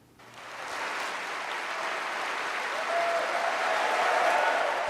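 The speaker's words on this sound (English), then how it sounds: "Huge applause for Theresa May at her first party conference as Prime Minister." Sustained, loud applause from a large crowd at a political party conference, for the Prime Minister, starting abruptly and building slightly in intensity, with no talking over it.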